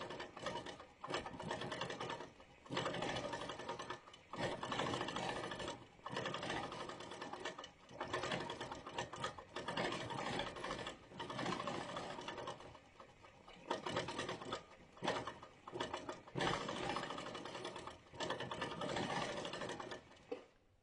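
A Moxie ST 18-inch stationary longarm quilting machine with stitch regulator sews an echo pattern in variegated King Tut thread, giving a steady, fairly quiet mechanical whir in long bursts broken by short pauses.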